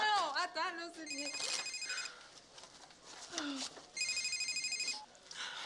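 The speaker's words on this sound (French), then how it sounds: "Ah, le téléphone, c'est pour moi!" A telephone rings in two trilling bursts in an indoor comedy scene, with lively, animated voices talking around and between the rings.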